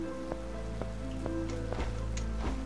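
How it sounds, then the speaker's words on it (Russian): Video game rain: steady hiss of rain falling on a surface, with scattered droplet ticks and a low continuous hum underneath, even and unbroken throughout. "мы с вами запустили дождик"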